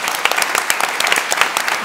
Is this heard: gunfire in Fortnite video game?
no